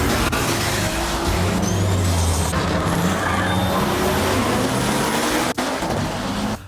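A 2012 Jeep Grand Cherokee SRT8 engine runs loud and steady, a continuous low rumble with no voices, holding level throughout apart from one brief dip near the end.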